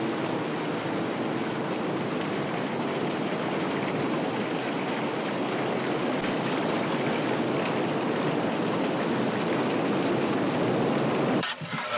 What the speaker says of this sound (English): You can set your watch by this fucking rain.